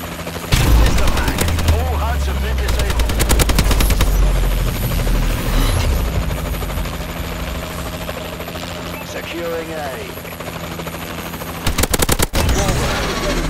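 Call of Duty Advanced Warfare multiplayer match with a Warbird aircraft rumbling loudly throughout, bursts of heavy gunfire near the start and again near the end, dense battle noise filling the background.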